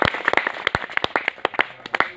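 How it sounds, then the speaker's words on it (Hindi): Jubilant clapping from an audience at a talk, loud and close, with several sharp hand claps in uneven bursts, some in a quick rhythm, and no speech. "एक बार ताली बजाओ जोरदार इस बात के लिए"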